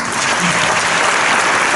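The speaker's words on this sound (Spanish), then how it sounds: "les pedimos un fuerte aplauso" An audience at a town festival awards ceremony breaks into sustained, dense applause that stays loud and even throughout.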